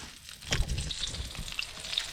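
Burger buns toasting in a pan on a campfire stove at a rock-cave campsite in Dolukanda: soft, continuous sizzling with a few sharper crackles and a brief clatter near the start, close and moderately quiet, with no talking.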